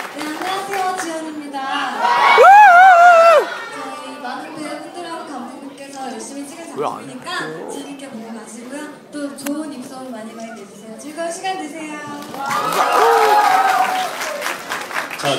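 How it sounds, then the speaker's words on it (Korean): An audience at a T-ara fan event in a CGV cinema in Daegu claps and cheers, with loud bursts of shrieking applause near the start and again at the end, and amplified speech carrying on between them. "박수 한번 쳐주세요"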